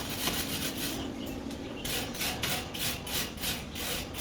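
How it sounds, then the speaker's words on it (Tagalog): A steel brush scrubs rust off an old metal dish drainer in quick, even back-and-forth strokes, a close, dry, rasping scrape repeated steadily with no talking. "I-steel brush muna natin siya para matanggal yung mga kalawang."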